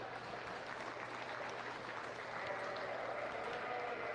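Faint, distant applause from a crowd around a livestock show ring at the Monroe County Fair, a soft continuous patter over a low hum.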